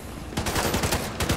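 Rapid bursts of automatic gunfire from a third-person shooter video game, The Division 2, crackle in quick succession, loud and close, with no talk over them.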